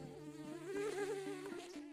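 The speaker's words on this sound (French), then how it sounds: "moustique" A mosquito buzzes in a thin, faint, wavering whine that hums steadily for about two seconds with slight shifts in pitch.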